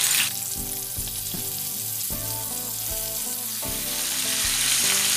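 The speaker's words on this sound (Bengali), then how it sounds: "জিরে ফোড়ন দিয়ে দিলাম।" Black cumin seeds sizzle and crackle in hot oil left in a pan after frying fish, a loud continuous close-up sizzle with stirring, alone without voices.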